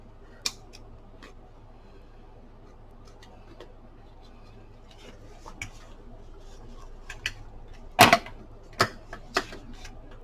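Scissors snip through fabric during an envelope-making craft, a few sharp isolated cuts standing out near the end over a quiet room.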